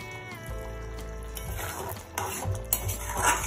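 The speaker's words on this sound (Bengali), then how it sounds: "একবার নাড়িয়ে নেব।" A spoon scrapes and stirs through a pot of potato and green pea curry, finished with ghee and garam masala, in a few soft, uneven strokes beside light clinks of the pot, with steady background music underneath.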